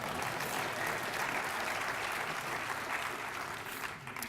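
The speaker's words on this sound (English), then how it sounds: "Let's have a round of applause for the pig." An audience at a conference opening keynote applauds steadily throughout, a dense wash of many hands clapping that eases off slightly near the end.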